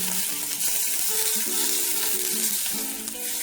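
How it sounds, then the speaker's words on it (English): Unsalted butter sizzles with oil-coated asparagus in a stove-top pan, a close, steady crackle with faint clinks, and no voices. "I'm going to add a little bit of unsalted butter to mine"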